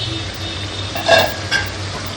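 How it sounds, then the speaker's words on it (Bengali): Spices sautéing in oil in a pan during home cooking, a faint steady sizzle with a low hum beneath and two brief stirring or scraping clinks in the middle. "মশলা থেকে তেল ছেড়ে দেবে"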